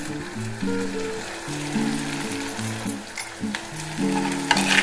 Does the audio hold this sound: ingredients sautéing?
yes